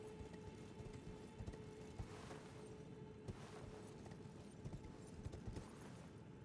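A horse's hooves clip-clop steadily in a rapid, even rhythm during Elden Ring gameplay, fairly faint under a constant low wind-like ambience.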